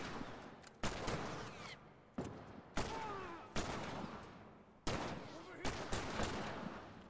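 Repeated gunshots from a gun in The Last of Us, six or seven sharp loud bursts each trailing into a long noisy decay, spaced irregularly about a second apart.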